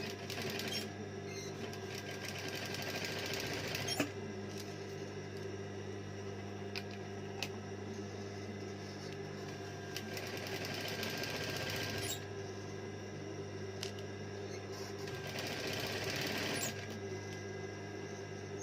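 A sewing machine runs steadily while stitching around a curved garment neckline, a continuous close mechanical hum with brief pauses and restarts, no talking.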